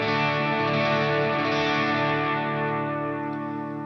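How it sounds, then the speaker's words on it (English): Electric guitar played through a Fender Tone Master Pro with only delay and reverb on, sustained chords ringing with a lush, echoing wash and slowly decaying at the end; no talking. "this is the tone with just the delay and the reverb"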